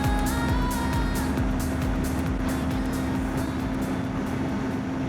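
Royal Enfield Guerrilla 450 motorcycle riding at high speed on the road, a steady engine drone under loud, buffeting wind rush that continues unbroken throughout.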